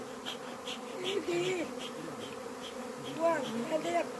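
Honeybee swarm buzzing steadily around a hive made from an old wooden churn after being taken from a quince tree, a continuous close insect drone with a few louder passes nearby and faint voices underneath.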